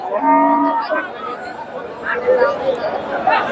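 Friesian bull cattle moo and low nearby at the Dhap cattle market in Bogura, amid a busy outdoor crowd with people chattering in the background.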